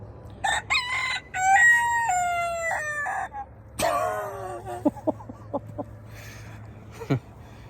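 A rooster crows loudly nearby, one long ragged call followed by another, then a few short clucks and chirps over a low background hum.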